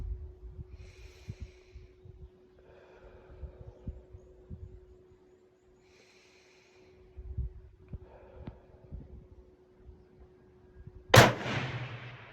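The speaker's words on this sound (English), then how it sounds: "That's when you want to squeeze the trigger." Near the end a Victrix Gladio X rifle fires a single sharp, loud shot after a stretch of quiet breathing and faint handling sounds.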